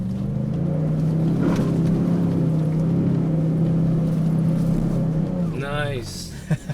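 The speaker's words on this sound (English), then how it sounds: "I can hear the turbo sound." A 2023 Ford Expedition Timberline engine with its turbo whooshing, a steady droning hum under cabin talk that tails off near the end, heard from inside the moving SUV.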